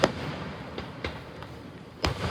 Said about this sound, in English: What type of firework is that?